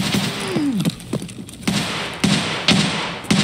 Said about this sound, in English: That's a suppressed 12 gauge shooting there